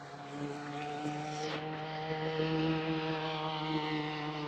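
A motor vehicle's engine drones steadily on a village road, its tone shifting slightly as it approaches and passes, fairly faint and continuous.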